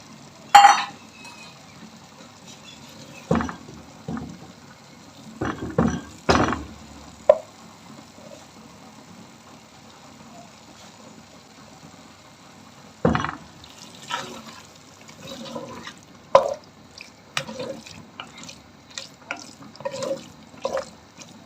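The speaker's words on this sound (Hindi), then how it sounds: "अब यहाँ पर बाकी की यखनी भी डाल रही हूँ" Leftover yakhni broth poured into a cooking pot for bhindi gosht, heard as scattered liquid splashes and clinks of a ladle in a quiet kitchen, with bursts of activity near the start and a cluster toward the end.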